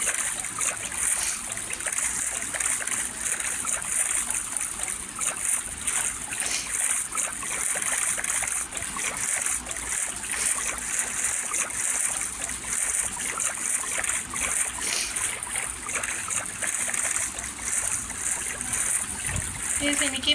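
A boat glides through water in Minecraft, a steady rushing, splashing wash of water that runs unbroken and close for the whole stretch with faint bumps, and no talk over it.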